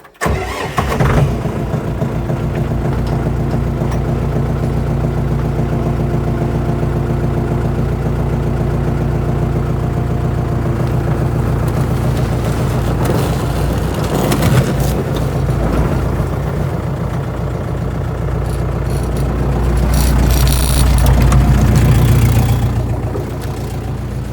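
A tractor engine runs steadily at idle throughout, a loud, continuous low rumble with a slight rise in revs near the end while clearing snow with a bucket on a paved yard.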